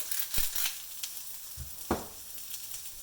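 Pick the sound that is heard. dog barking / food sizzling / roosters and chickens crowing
food sizzling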